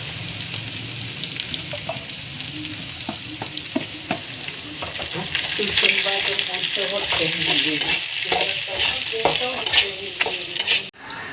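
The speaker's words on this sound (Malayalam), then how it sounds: "സവാള തട്ടിയിട്ടുണ്ട്, ഇനി സവാള വഴട്ടുവാണ്." Onions frying in a pan, a bright continuous sizzle with repeated scraping and stirring knocks from a utensil, growing louder midway and staying close and busy to the end.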